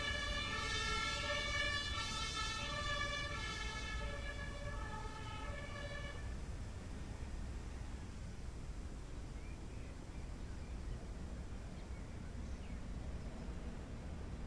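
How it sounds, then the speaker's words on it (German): Emergency vehicle siren in the Train Sim World 2 railway simulator, a loud wailing tone cycling steadily for about six seconds before cutting off, leaving a continuous low rumble of background noise. "Martinshorn ohne Ende."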